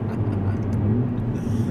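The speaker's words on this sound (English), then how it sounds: "So whilst I'm driving this car in Sport Plus" A Mercedes-Benz A45 AMG hot hatch drives in Sport Plus mode with its exhaust valves open, its engine a brief, fairly quiet low drone heard from the cabin.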